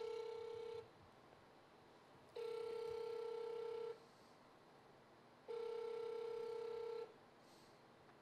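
A telephone ringback tone sounds on an outgoing call: three long, even rings separated by pauses, clear and steady over faint line hiss.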